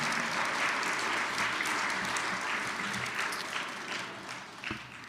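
A packed chapel audience at a Kwanzaa service gives a musician a sustained round of applause, dense and even, fading slightly toward the end.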